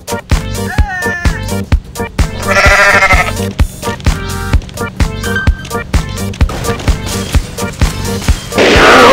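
A goat in the video game Goat Simulator bleats amid loud game sounds, repeated sharp thumps and clattering effects, with bleats standing out over the busy, rhythmic mix.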